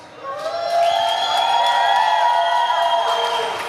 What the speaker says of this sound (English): Give me a cheer if you're supporting the Brazilian team